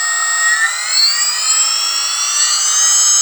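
A Maytech electric foil assist motor runs at about 30% throttle, giving a steady, high-pitched electric whine with shifting tonal harmonics that rise and fall slightly. It sounds close and continuous, with no talking.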